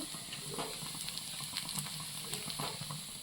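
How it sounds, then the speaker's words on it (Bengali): A quiet, steady sizzle of snacks made from flour, semolina and vegetables frying in oil, with soft bubbling and faint crackles throughout and no voices. "আর এদিকে এই যে ভাজা চলছে।"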